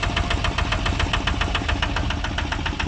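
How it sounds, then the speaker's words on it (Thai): A 15.5 hp Kubota NC engine, fitted with a Siam Kubota tail drive, runs close and loud with a steady, rapid knocking beat that holds even throughout. "เครื่องยนต์สิบห้าจุดห้าแรงครับ"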